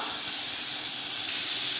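Onions and chopped tomato with a little turmeric sauté in a pan for a simple small-onion chutney, giving off a steady, even hiss of sizzling that runs unbroken throughout, with no talking.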